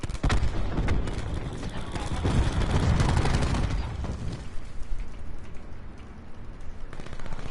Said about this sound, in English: Grenade going out.